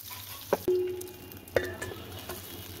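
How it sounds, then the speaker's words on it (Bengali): A catla fish head fries in oil with a brief crackling sizzle, punctuated by a couple of sharp clacks of a utensil against the pan. "মাছের মাথাটা আমি সুন্দর করে সব সাইড দিয়ে ভেজে নিয়েছি।"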